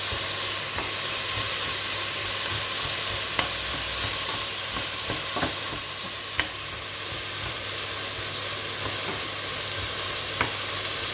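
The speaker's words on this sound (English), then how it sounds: "I need to stir it, and I start stirring that." Celery root frying in a pan for a vegetarian Bolognese base, a steady broadband sizzle running throughout with occasional clicks and scrapes of a utensil stirring through the vegetables.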